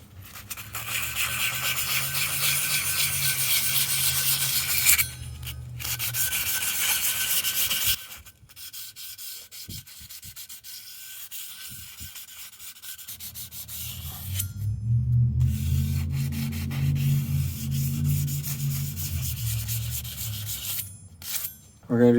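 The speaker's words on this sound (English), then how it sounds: "sand the rotor down a little bit" Sanding an e-bike brake rotor with a steady, close rasping rub that runs in long strokes, pauses briefly midway, then resumes with a loud low-heavy scrubbing before stopping.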